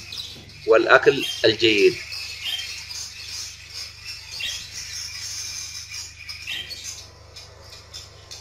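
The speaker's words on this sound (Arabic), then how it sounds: "أن الطيور بدأت تتحرك وبدأت تغرد" Pet budgerigars chirp and twitter softly in a quiet room, a brief burst of speech at the start followed by faint, scattered high tweets that continue in the background.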